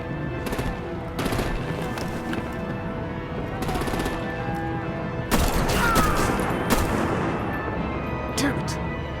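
Rapid gunfire and heavy weapon bursts from the Batman: The Telltale Series video game, a dense battle din with loud broadband cracks, strongest in the second half, mixed with game voices.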